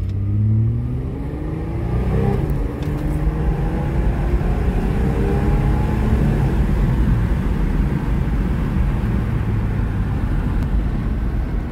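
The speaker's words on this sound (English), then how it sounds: "Little old truck still got it." An old truck's engine revs hard under full throttle at a racing speedway, a loud, steady, close roar with rising pitch sweeps as it accelerates through the gears.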